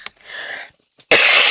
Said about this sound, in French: Il éternue.